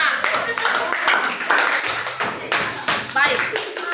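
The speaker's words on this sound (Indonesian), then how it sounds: "Oke, tepuk tangan buat kelompok 5." A classroom group claps for a student team, producing a short burst of brisk, uneven applause with voices mixed in throughout.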